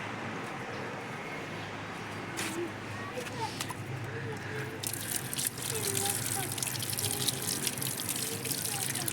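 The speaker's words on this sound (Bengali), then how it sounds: "দাঁড়াও আম্মু এটা ধুয়ে আনি।" Running tap water washing a fallen jujube fruit, a steady faint trickle that grows into a brighter gush partway through.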